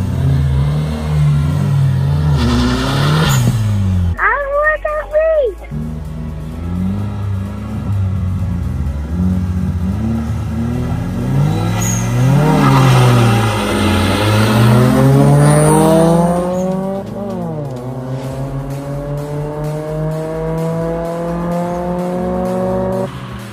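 Honda Civic street race cars, one a VTEC, rev hard and launch. The tires squeal sharply as the engines scream up through rising gear pulls, loud and close, with a deep rumble between runs.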